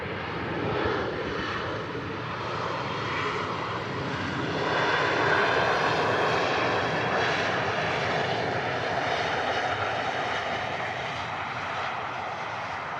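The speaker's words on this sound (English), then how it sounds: "Lovely touchdown there, the Jet2." A Jet2 airliner landing at Manchester Airport, its engines a steady, loud broadband roar throughout that swells slightly midway, with no talk over it.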